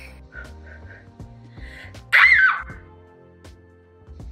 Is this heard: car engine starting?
no